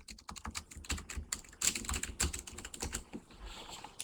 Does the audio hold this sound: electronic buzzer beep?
no